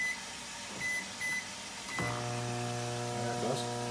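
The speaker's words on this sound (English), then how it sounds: "And we'll put this in the microwave." A microwave oven cooking rice gives a couple of short beeps, then a click as it starts and settles into a steady electric hum with a faint rattle, close by and indoors.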